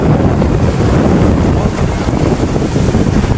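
Engine of a fishing banca roaring at sea on the open Pacific: a loud, steady, low-heavy drone mixed with wind rush and wave wash, continuous throughout.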